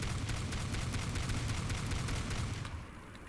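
A hook shotgun fires repeatedly in the destruction game Teardown, producing a dense, loud barrage of rapid blasts and crashing debris that thins out near the end.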